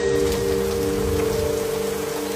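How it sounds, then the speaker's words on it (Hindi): Light rain in cool weather falls steadily on a surface, a dense pattering hiss that runs without a break over a low steady hum, with no voices. "ठंडा मौसम, हल्की बारिश"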